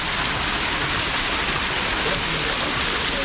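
A waterfall in the El Yunque rainforest roars loudly and steadily, a dense continuous rush of falling water close by with no pauses.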